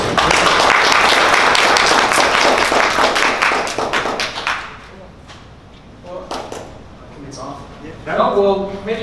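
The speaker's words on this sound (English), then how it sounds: "maybe one more round of applause for Ben here" An audience at a talk on building conversational chatbots applauds, a dense, loud burst of clapping that fades after about four seconds into scattered faint sounds.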